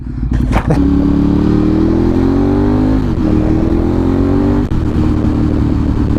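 Motorcycle engine, loud and close, holding a steady strong rev with a rising and falling tone and a brief dip midway, a dense continuous roar without distinct pops standing out.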